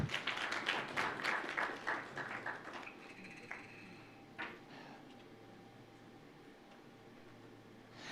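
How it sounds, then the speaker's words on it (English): Guests at the official launch of a registry platform applaud their chairman with fairly faint clapping that is dense for the first few seconds, then thins to scattered claps and fades into quiet room tone. "A round of applause to our chairman."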